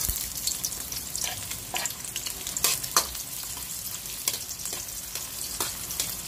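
Onion frying in a pan as the first step of chicken mechado: a steady, fairly close sizzle with occasional sharper crackles and pops spread through it, and no voices.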